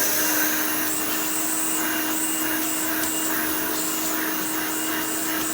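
A Hoover Elite 350 U4463-9 upright vacuum cleaner runs steadily at close range, a loud continuous whirring roar with a sharp tonal whine, unbroken for the whole stretch with no talk.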